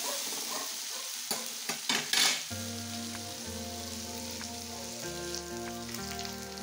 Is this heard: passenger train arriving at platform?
no